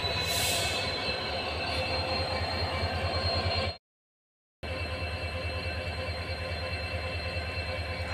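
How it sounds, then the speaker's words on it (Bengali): A train stands and moves on the railway track at Rangapara in Assam, a loud, steady rumble with rhythmic wheel clatter and squeal, broken by a brief silent gap. "এই যে রেল ইতিমধ্যে এসে গেছে"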